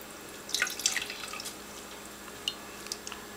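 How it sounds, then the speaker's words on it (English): Soft water drips and small splashes come from wet 100% wool fingering-weight yarn being wrung out by hand for tea dyeing. A cluster of drips falls early, then a few isolated drops follow in a quiet room with no talk. "I'm going to gently wring them out and place them in each of the dye baths."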